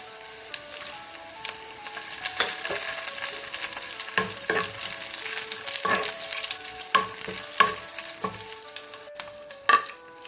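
Shallots and dried red chillies fry in a pan for a fish and mango curry, giving a continuous crackling sizzle. Scattered louder pops and spatters stand out, with faint music in the background.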